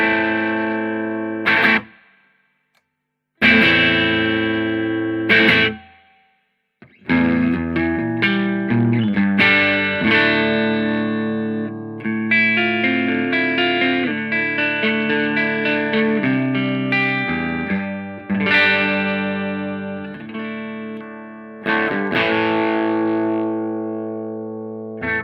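Distorted electric guitar chords and sustained notes ring through a Marshall JTM60 1x12 combo amp, with a roomy reverb tail; a couple of brief pauses break the playing.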